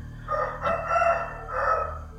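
A rooster crows in a couple of drawn-out, harmonic calls, fairly close and moderately loud, with no voices over it.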